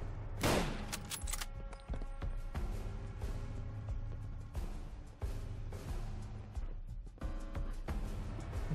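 Rifle shots in the video game Fallout London, a series of sharp reports spaced irregularly at fairly low level, each with a short decaying tail, heard alone without talk.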